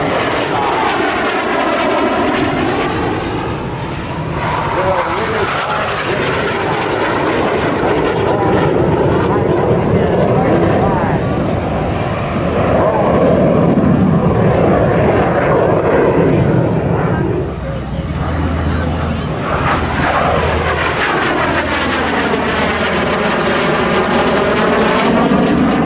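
Propeller warbirds flying a mock dogfight at the Thunder Over Michigan 2011 airshow, their engines roaring loud and continuous, rising and falling as the planes pass, climb and roll, with a commentator talking over the noise throughout.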